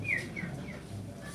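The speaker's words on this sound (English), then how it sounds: "I heard some birds chirping," A few short, high bird chirps sound over a low outdoor rumble, spaced irregularly and moderately close.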